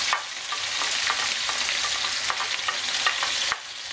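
Green beans, artichokes and squash sautéing in a pan for a vegetable omelette give a steady, close sizzle, broken by occasional scrapes and stirring clatters and a short dip near the end.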